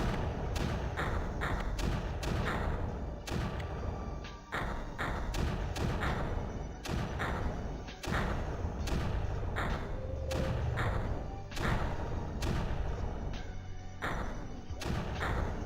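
Mortars firing in the strategy game Creeper World, with repeated dull thumps and impacts over a dense, busy game soundscape, irregular bursts close together, and little talking.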